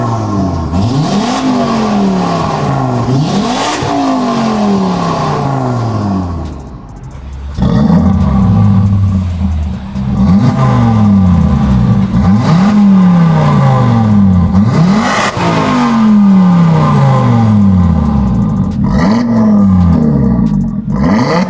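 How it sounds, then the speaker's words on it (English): Mk3 Audi TT RS fitted with a Milltek sport exhaust, revved hard in repeated rising sweeps that fall back between blips, a loud, throaty roar close by. "Fitted the Milltek exhaust system."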